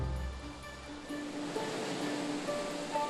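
Rough ocean waves break against a sea cliff late at night on Christmas Island, a steady close roar of surf and washing water with no voices.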